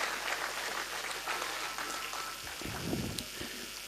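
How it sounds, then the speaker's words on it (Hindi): Quiet, continuous clapping rises from the audience at a Hindi poetry gathering (kavi sammelan) in Mathura, heard from a distance without talk. "जोरदार तालियां बजाइए इसके लिए।"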